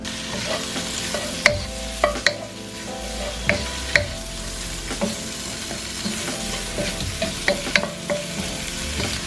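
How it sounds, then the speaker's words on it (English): Freshly cleaned spinach sautéing in a pan with a steady low sizzle, broken by repeated sharp clacks of a utensil stirring and scraping against the pan, close and moderately loud with no talking. "I'm going to lightly saute these freshly cleaned spinach"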